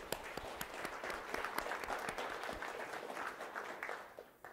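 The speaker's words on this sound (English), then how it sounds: "So a quick round of applause for Microsoft." An audience at a tech meetup in a Microsoft building gives a quick round of applause, scattered individual claps forming a moderate, fairly distant patter that thins toward the end.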